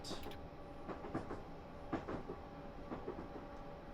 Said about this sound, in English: Here's a train that's coming along right now as we enter the 45 signal.